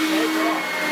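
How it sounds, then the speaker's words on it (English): A lightweight American-made Simplicity vacuum cleaner runs with a steady, loud, close whine and rushing airflow throughout, alone with no talk. "the lightest vacuum cleaner on the market, more power and suction than a Dyson"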